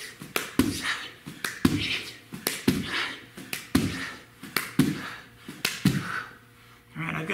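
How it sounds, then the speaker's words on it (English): Clap push-ups in a children's exercise class, a series of sharp, close hand claps and slaps against the floor in a steady rhythm of repetitions, each followed by a breathy exhale, with a brief pause near the end. "Clap push-ups, going for 12."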